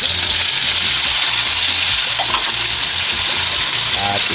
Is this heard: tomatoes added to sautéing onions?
yes